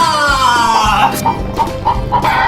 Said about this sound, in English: Cluck, cluck, Rooster, cluckety cluck, Bob.